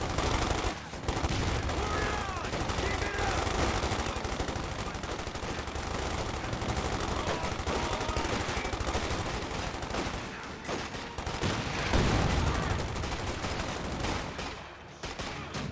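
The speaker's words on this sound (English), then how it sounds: "MC-34 firing away against the paratroopers" Sustained MG-34 machine gun bursts in Company of Heroes 2, a dense, loud barrage of gunfire and battle noise that continues without a break, with faint voices under it.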